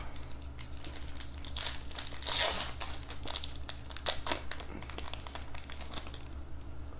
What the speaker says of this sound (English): we're going to open up two more Steam Siege packs today